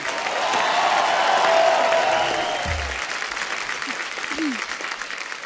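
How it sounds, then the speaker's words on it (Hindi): Studio audience applause welcoming actress Nora Fatehi onto The Kapil Sharma Show: a loud, dense wash of clapping that swells early, then holds steady with faint voices mixed in. "नोरा के लिए जोरदार तालियां"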